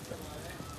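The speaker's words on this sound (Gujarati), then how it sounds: "ઝરમર વરસાદ ચાલી રહ્યો છે." Steady drizzle of monsoon rain falling on an open riverfront in Ahmedabad beside the Sabarmati River, a soft continuous patter with no voices, heard close and fairly faint.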